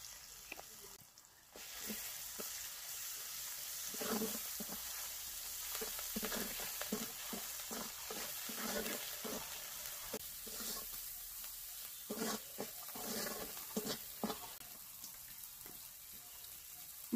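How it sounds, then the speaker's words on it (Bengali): Ground cumin, chilli powder, turmeric and salt fry in a pan, giving a soft, continuous sizzle with irregular stirring scrapes and clicks throughout, faint and close, with no clear talking. "মশলা কষানো হয়ে গেছে"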